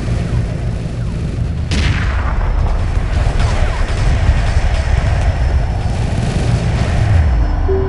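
Heavy weapons fire in the space strategy game Homeworld 2 Remastered as a Keeper ship attacks: booming blasts and a sharp impact burst over a low rumbling battle din, loud and continuous.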